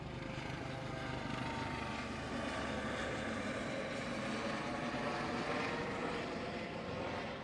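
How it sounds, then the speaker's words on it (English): Aircraft flyover at a Navy retirement ceremony for a vice admiral: a steady, loud, broad engine roar that fills the whole stretch with no talk over it. "That flyover wasn't supposed to happen for about another 3 or 4 minutes."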